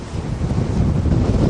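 Gale-force wind roars across the microphone on a MacGregor 26M small sailboat in very rough seas, with waves around 18 feet and gusts near 51 mph, a loud, continuous buffeting rush with no talking.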